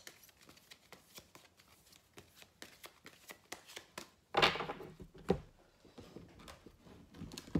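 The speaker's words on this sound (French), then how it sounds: "on va tirer quelques cartes du tarot psychique" Psychic tarot cards being shuffled in a quiet room, a steady patter of soft riffling taps with a louder slap of cards partway through.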